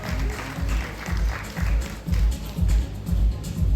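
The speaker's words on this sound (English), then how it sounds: "Big round of applause for Chloe Kutia" Audience applause greets Chloe Kutia, a social media personality, at the Extra Mile awards event, a steady clapping wash with a pulsing low rhythm beneath it throughout.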